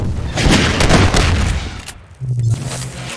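Gunfire in a Half-Life 2 Deathmatch match, a dense burst of shots and booms that fades into a brief lull before more game noise returns.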